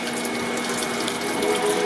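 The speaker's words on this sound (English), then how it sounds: "I'm going to open a faucet" Water runs steadily from a faucet in an R-Pod 180 travel trailer while its RV water pump hums with a constant tone underneath, a continuous rushing hiss with no pauses.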